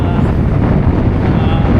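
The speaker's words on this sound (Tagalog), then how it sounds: "So malamig pa rin, saka mahangin." Wind rushing past the microphone while cycling a flat route in Bulakan, Bulacan, a continuous low buffeting roar that stays loud throughout.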